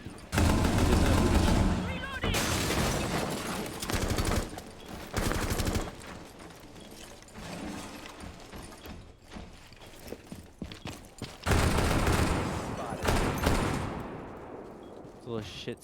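Pistol gunfire in the Rainbow Six Siege video game, loud bursts of shots in clusters with quieter stretches of clatter and scuffling between them, while people talk over the action.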